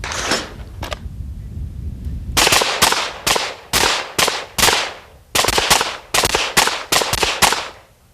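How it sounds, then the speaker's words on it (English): A revolver fires in quick sharp cracks at targets during a left-handed shooting stage, about a dozen loud shots in two to three rapid strings with short pauses between them and no talk. "Christy now must fire 3 shots at each target with her left hand in 8 seconds or less"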